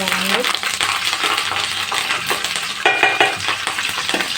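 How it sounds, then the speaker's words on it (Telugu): Green chillies and curry leaves crackle and sizzle loudly in a hot pan, with metallic clinks and scrapes of stirring over the busy frying noise. "పచ్చిమిర్చిని వేసేయాలండి వేసిన తర్వాత వేసిన తర్వాత కరి కరివేపాకుని కూడా వేసేసి"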